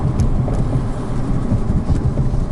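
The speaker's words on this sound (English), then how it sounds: "you might hear a little bit of road noise" Steady low rumble of road noise from a moving BMW i3, with tire and wind roar drifting in through an open window, continuous and fairly loud.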